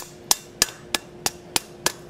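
Wooden mallet strikes metal being shaped over an anvil horn while forging a double curtain tie back, six sharp, evenly spaced knocks about a third of a second apart, close and clear with no talking.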